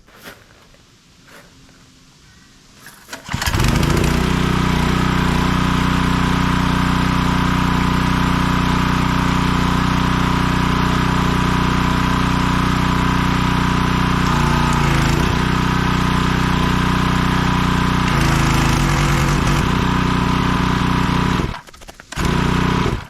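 A Husqvarna PW3200 pressure washer's petrol engine, following a seized-motor problem, fires up after about three seconds of near silence and then runs loud and steady close by, with a brief dip near the end.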